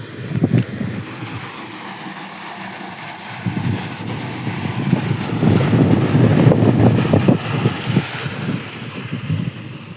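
Water from a motor pump gushes into a farm well used for irrigating chickpeas, a loud, rough rushing that swells in the second half, with wind buffeting the microphone and no voices.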